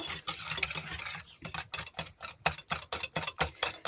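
Sugar beaten by hand with a wire whisk makes close, rapid rhythmic clicking strokes. They start as a blur and settle into a quick, even beat.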